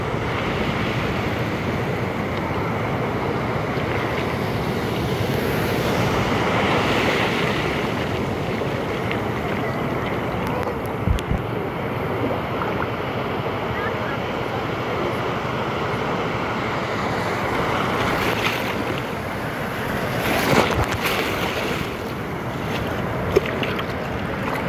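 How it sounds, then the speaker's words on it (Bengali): Rough morning sea at Cox's Bazar, with big waves rolling in as a constant roar. Surges swell and fade over the steady wash while wind blows across the microphone. No one talks. "আজকে সেই লেভেলের ঢেউ"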